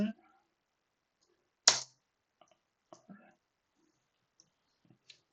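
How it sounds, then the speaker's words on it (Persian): Computer keyboard keys pressed while a virtual machine boots Windows Server 2025: one sharp, loud key press, then a few soft, scattered clicks in quiet, with a brief voice at the very start. "و بعد دکمه اینتر میزنم"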